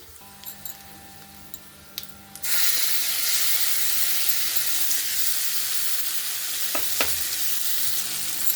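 Curry leaves crackle into hot oil for tempering, a sudden loud sizzle that bursts in after a few light clinks and then holds as a continuous, close frying hiss.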